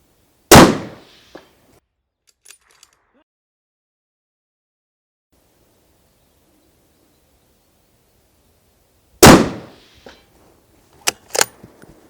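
Daniel Defense Delta 5 Pro rifle in 6.5 Creedmoor firing outdoors: two loud, sharp gunshots about nine seconds apart, each with a short decaying tail, plus a few faint handling clicks.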